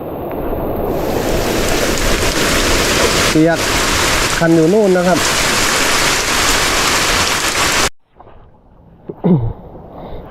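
Heavy rain pours down steadily as a loud, dense hiss for about eight seconds, with someone speaking briefly over it while out watching fish in muddy runoff, then the roar cuts off to near quiet.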